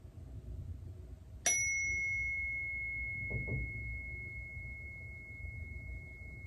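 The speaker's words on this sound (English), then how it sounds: "Some of you like when we ring the chime to make silence, so today I think I'll ring the chime." A prayer chime struck once during a quiet prayer-table gathering, giving a bright, clear ring that sustains and slowly fades as a long echoing tone over soft room noise.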